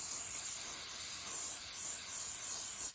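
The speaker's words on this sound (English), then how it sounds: "I'm going to spray some olive oil into the pan." Olive oil hisses steadily from a spray can into a pan for a few seconds, a close, continuous airy spray that cuts off sharply at the end.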